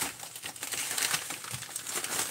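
An item is slipped into a reused paper envelope, producing close, soft crinkling and rustling of paper throughout, with no speech.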